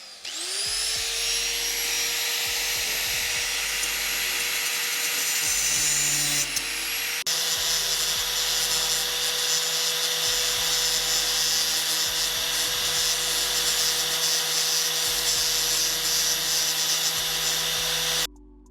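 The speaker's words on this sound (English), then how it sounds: "we're gonna use an angle grinder to cut these studs off" An angle grinder cuts studs off the body of a 2011 Mustang GT, a loud, sustained high-pitched whine with harsh metallic grinding that shifts pitch partway through and runs steadily to the end.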